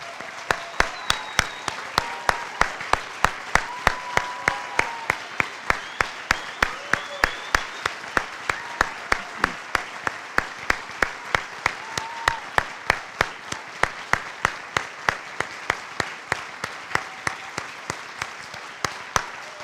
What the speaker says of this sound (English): Please join me in congratulating our Army's newest lieutenants with a round of applause.